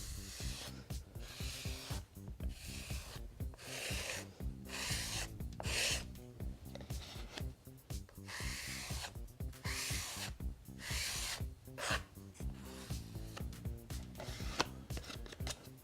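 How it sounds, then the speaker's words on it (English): Repeated rough scraping strokes of a tool removing excess water-based wood filler from a hard surface, steady and rhythmic, fairly close with no voices. "You can just scrape off the excess."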